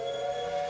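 A train horn sounds in the railway video game Railway Empire 2, one steady, loud, sustained tone with no talking over it.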